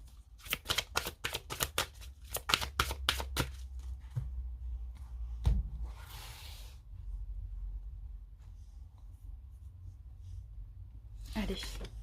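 Tarot cards shuffled in a rapid run of crisp riffling flicks, followed by a single card slap and soft handling, close and fairly quiet, with a voice speaking softly in places.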